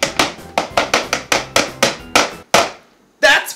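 Lemon zest grated by hand for a cake batter: about ten quick, evenly spaced rasping strokes, close and fairly loud, then a brief pause and one last stroke, with no talking.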